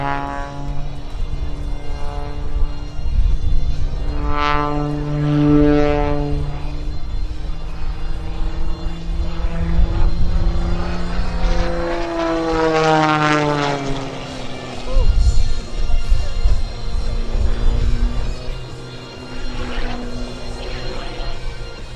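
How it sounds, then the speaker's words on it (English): An MXS-RH aerobatic propeller plane performing maneuvers at an air show, its engine drone rising and falling in pitch as it climbs, rolls and dives, loud throughout with a commentator speaking over it. "a bone-crushing positive and negative 16 Gs, the Window World MXS is the only aircraft capable of meeting the extreme demands Rob required to perform his trademark maneuvers."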